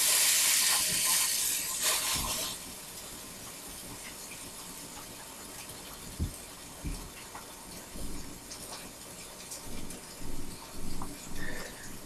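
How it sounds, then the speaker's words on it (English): Ground beef patties of top sirloin sizzle in a hot pan, opening with a loud burst of hissing steam that settles into a steady fry broken by irregular pops and spatters. "And then put them in your hot pan."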